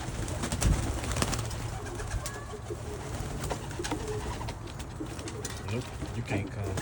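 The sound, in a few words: pigeons cooing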